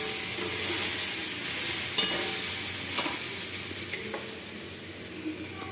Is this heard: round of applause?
no